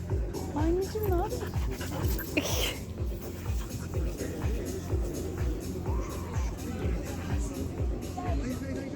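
A dog named Laika pants in rhythmic breaths close by in a lively park, with people's chatter in the background.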